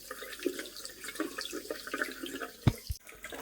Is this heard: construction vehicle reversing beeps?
no